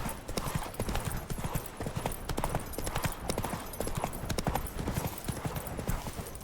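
Roach, a horse in The Witcher 3, clip-clops along in steady, rapid hoofbeats, fairly close and even throughout, with ambient game sound underneath and no clear talk.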